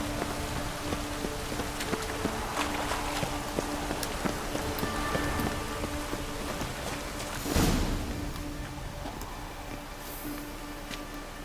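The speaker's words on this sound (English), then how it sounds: "I like rain. Keeps the rogues indoors." Steady rain falling in The Witcher 3 video game, a dense continuous hiss of drops with a few clip-clop hoof sounds and a brief louder swell midway, no speech.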